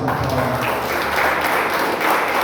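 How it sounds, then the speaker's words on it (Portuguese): A church congregation applauds the mothers at a Mother's Day family service, a loud, continuous wash of many hands clapping, with a low hum underneath and no speech. "Pode aplaudir as mães."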